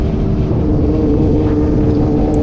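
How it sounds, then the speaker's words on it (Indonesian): A motorcycle engine hums steadily at moderate revs while riding along a forest road on a Sunday group ride, a continuous low drone with wind rush and no speech. "rasakan suara dari motor kalian, nggak harus RPM tinggi juga enak kok didengar ya kan"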